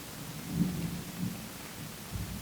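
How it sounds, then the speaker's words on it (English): Thunder during a storm in New York, low distant rumbles that swell and fade in a few rolling pulses, faint and muffled, with no voices. "Did you guys hear that thunder? That's about to rain crazy right now in New York."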